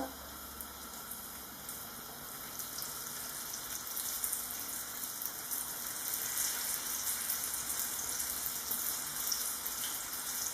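Goat cheese in brick pastry frying in a pan, a steady faint sizzle with fine crackle throughout, close and continuous, with no talk.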